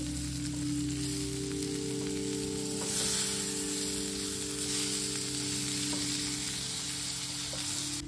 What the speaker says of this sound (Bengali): দেখুন বেগুনগুলি ভেজে নিচ্ছি